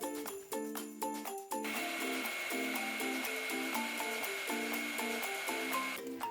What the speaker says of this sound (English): and then curing it with a heat gun